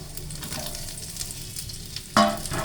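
Chopped coconut frying in ghee for kadala payasam, a continuous sizzle with stirring scrapes and a sharper clatter near the end, close and alone.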